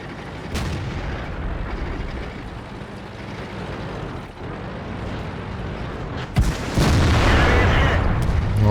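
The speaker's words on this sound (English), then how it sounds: "I think an artillery shell come down there." In the World of Tanks video game, an artillery shell lands with a deep boom amid constant rumbling engine and battle noise, followed by a heavier burst of impact noise late on.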